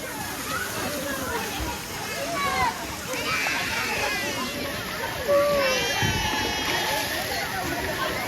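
Water splashes and sloshes repeatedly in a lively outdoor setting at Kileshwar in the rain, with voices and shouting mixed throughout.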